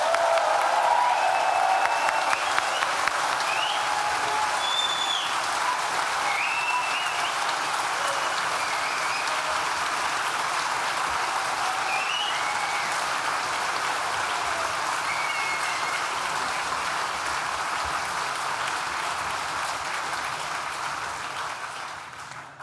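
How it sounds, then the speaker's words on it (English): Graduates at a 2019 university graduation ceremony for the School of Architecture, Design and the Built Environment give a long, loud, sustained round of applause and cheering that fills a large venue, slowly fading near the end. "I suggest you give yourself one really big round of applause and try and take the roof off this fantastic venue"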